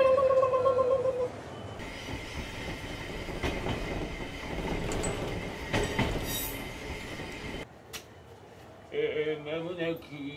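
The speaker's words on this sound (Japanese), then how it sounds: "まもなく列車発車します。" A passenger train pulls out of a Japanese station with rumbling wheels, rattling cars and a squeal of wheels on rail, building then fading, while a voice speaks between and over the train noise.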